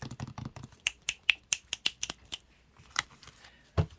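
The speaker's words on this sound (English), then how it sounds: "there's clapping and clicking going on" Finger snapping and clicking, a quick run of about a dozen sharp, dry snaps in an uneven rhythm, close and fairly loud, with a final heavier snap after a brief pause.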